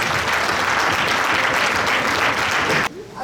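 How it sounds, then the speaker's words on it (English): Loud, dense applause from an audience at a Women's Day celebration in Chicago, a steady roar of clapping that cuts off abruptly near the end. "Give her a big round of applause, please."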